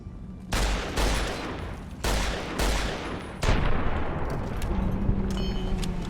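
A 12.7mm submachine gun fires in Fallout: New Vegas, loud rapid bursts in several separate strings, followed by scattered clatter and shell tinkles as the shooting trails off.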